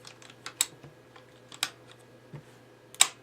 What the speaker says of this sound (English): as you can hear, that motor is pretty strong.